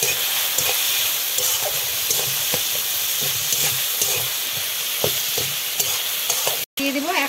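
Ground coriander, cumin, turmeric and salt fry with a splash of water in a pan for an egg and red lentil dish. A steady close sizzle runs throughout, broken by repeated stirring scrapes and a brief cut near the end.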